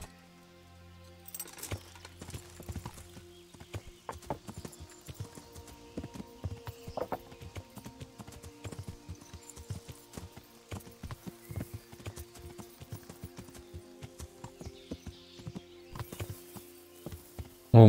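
Horse hooves clip-clop steadily at a walking pace in the medieval role-playing game Kingdom Come: Deliverance, a clear run of crisp hoof strikes lasting most of the stretch over a faint ambient bed, with no talking.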